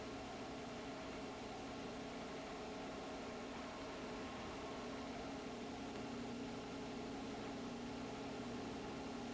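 A Papp engine runs on a dynamometer at about 1,200 RPM, giving a steady, even mechanical hum with a continuous noisy drone and no change in pitch, faint and heard alone with no voices.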